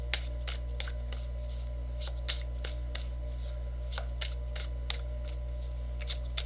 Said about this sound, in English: Let's end with just pulling one or two final cards.